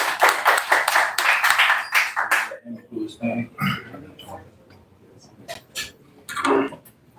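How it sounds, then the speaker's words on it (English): A short burst of audience clapping at a hip-hop networking event fades after a couple of seconds, followed by sparse claps and people talking and laughing nearby. "Let's get a round of applause for Pimpin Ken again, y'all, please."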